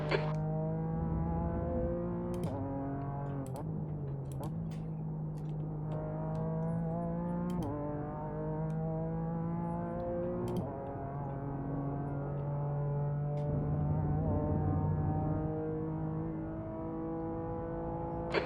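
GT4 Open race cars sound in the iRacing simulator at Spa. The engine note is loud and steady, climbing through the gears with sharp shift breaks, and no talking is heard.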